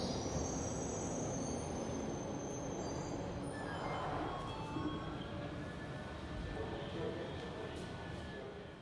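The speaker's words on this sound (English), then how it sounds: "We're on board a train of brand new 1995 stock, heading in a southbound direction on the former Hampstead line" Heard from aboard a London Underground Northern Line train of new 1995 stock running southbound on the West End branch: a constant rumble of wheels on rail with drawn-out metallic wheel squeals, while someone narrates over it.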